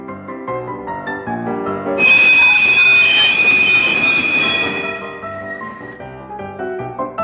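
Train running on rails, rumbling close and loud, then a sharp, sustained wheel squeal rises for a few seconds before fading back into the rolling noise, with no voices.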